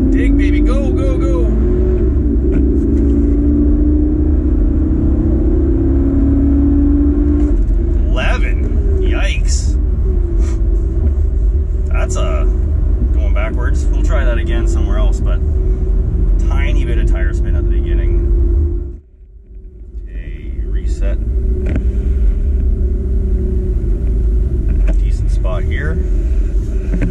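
A car accelerates hard from a standstill in a 0 to 60 run after a spark plug change, its engine droning loud and close for about twenty seconds. It drops off sharply at a gear change, then climbs again.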